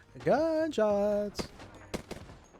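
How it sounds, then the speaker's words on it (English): A voice calls out briefly, then two sharp, loud gunshots in Apex Legends crack about half a second apart, followed by fainter clatter. "Gunshots."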